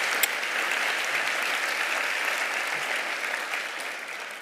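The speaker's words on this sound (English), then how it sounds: "So I want to give her a round of applause again." Audience applauding for Kathie Lee Gifford at an Annie Oakley Society luncheon, a steady wash of many clapping hands that holds evenly throughout and tapers slightly at the end, with no talk.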